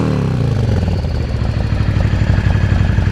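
A Yamaha Dragstar 650 motorcycle with aftermarket silencers on the exhaust runs steadily, a loud, close, continuous low engine rumble with even pulsing throughout, no voices.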